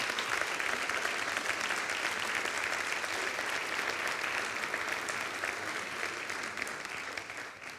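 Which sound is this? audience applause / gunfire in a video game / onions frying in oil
audience applause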